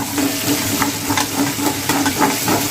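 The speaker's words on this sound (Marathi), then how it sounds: "आपल्या इकडे लसूण जो आहे आणि मिरची ती चांगली फ्राय होत आहे" Garlic and green chilies frying in oil in a pan, a crackling sizzle broken by repeated scraping and stirring strokes at an uneven rhythm, close and fairly loud, with no voices.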